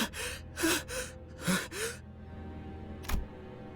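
In the video game Limbus Company, a person gasps for air in several sharp, breathy intakes close to the listener, followed by a pause and one final short gasp, with no talk over it.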